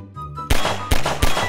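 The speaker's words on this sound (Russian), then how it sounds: "Тут канистры есть на карте, по ним стреляешь, они взрываются." Canisters shot and blowing up in Garry's Mod: three loud, close blasts in quick succession, each a heavy boom with a crackling tail, after a brief quiet lead-in.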